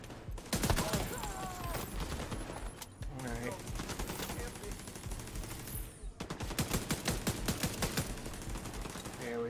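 Sustained automatic turret gunfire in The Division 2, rapid bursts laying down covering fire through most of the stretch with brief pauses, loud and close amid a busy firefight, with a voice talking over it.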